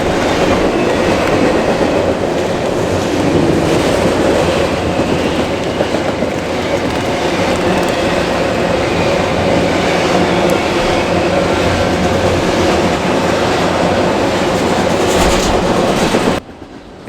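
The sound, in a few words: Norfolk Southern freight train 289 passing at speed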